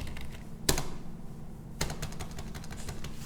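Computer keyboard keys are pressed in a few sharp, separate clicks in a quiet room during an accounting software exercise, with no voices.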